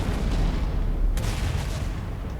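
A deep, rumbling explosion from the video game Mass Effect 3 fills the whole stretch, loud and heavy with low boom, followed by a brief sharp crackle of debris; no talking over it.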